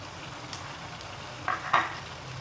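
Chopped tomatoes drop into onion masala that is frying to light brown for a market-style chickpea dish, giving a faint background sizzle and two short, louder hissing bursts as the pieces hit the hot pan.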